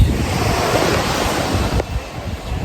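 Aegean sea waves washing onto a beach, a loud steady rushing surf with heavy wind buffeting the microphone, easing slightly near the end.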